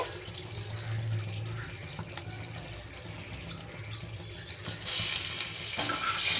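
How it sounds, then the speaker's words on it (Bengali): Dried red chillies, whole cumin and nigella seeds frying in hot oil, a soft continuous sizzle with light crackles, swelling louder near the end, no talking. "শুকনো লঙ্কা গোটা জিরে কালো জিরে এগুলো একটু ভাজার গন্ধ ছেড়ে এলেই"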